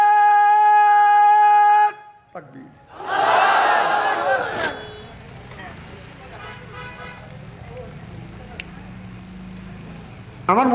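A crowd at an open-air Islamic religious gathering roars a loud, massed shout in response, rising sharply and fading after a couple of seconds, followed by quieter murmuring and ambient noise.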